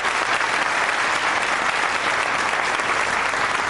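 Audience applauding in a hall, a dense, steady wash of clapping from many hands that holds at an even level without voices standing out.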